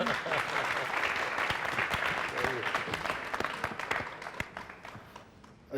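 A studio audience at a Hindi TV talk show applauds in a loud, sustained burst of clapping that slowly thins toward the end, while a voice talks over it.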